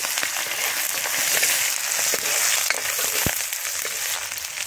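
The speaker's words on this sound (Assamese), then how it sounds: "কেৰাহী তেল পকি গ'ল। ইয়াত পিঁয়াজ দি দিওঁ।" Onions frying in hot oil in a kadai while preparing an Assamese local chicken curry, a steady loud hiss and crackle throughout with a few sharper pops, no voices.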